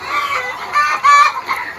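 Chickens clucking at a coop in a rural garden, several short calls and chirps rising over a steady backdrop, fairly close and moderately loud, with no talk.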